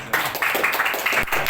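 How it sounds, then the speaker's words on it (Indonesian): A church congregation claps during a sermon, producing a brief flurry of close, uneven handclaps with a sharper clap near the end. "Tepuk tangan dulu tuh."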